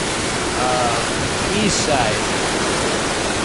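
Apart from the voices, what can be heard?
flood water rushing out of Oahe Dam stilling basin tunnel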